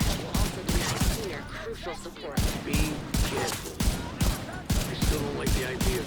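Rifle gunfire in The Division 2 comes in rapid, loud bursts of sharp shots, repeated steadily throughout amid game sound effects.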